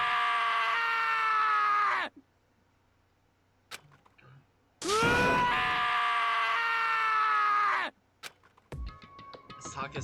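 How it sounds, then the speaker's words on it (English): Character in the Danganronpa video game screaming, two long, loud, anguished wails separated by near silence, followed by sharp clattering hits. "sad screams invaded our skulls"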